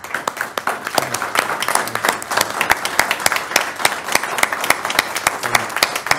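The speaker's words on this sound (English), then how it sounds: "Let's give Rick Fender a round of applause." A retirement honoree at a board of education meeting gets a round of applause, a room of people clapping with distinct sharp close claps over a steady crowd patter and brief murmurs.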